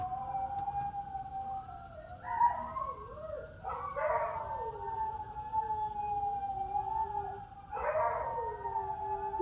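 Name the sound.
dogs howling along with sirens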